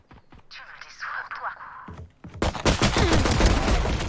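Rapid submachine gun fire bursts out loud and close in the Valorant video game, following a stretch of quieter game effects and short speech.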